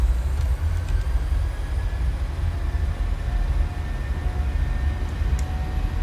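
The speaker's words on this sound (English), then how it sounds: "Set takeoff thrust." Jet airliner engines at steady, loud takeoff power, a dense low roar with a faint high whine running the whole time, heard from inside the aircraft on a very short hop from Brazzaville to Kinshasa.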